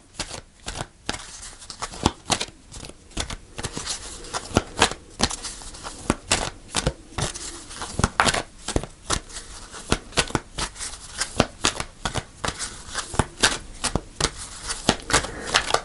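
Fairy oracle cards being shuffled by hand in repeated quick riffling bursts with sharp papery slaps, close and crisp throughout, with brief pauses between bursts.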